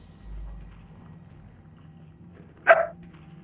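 One short, sharp dog bark rings out near the end after a long quiet stretch with a low background hum, fairly close and clear.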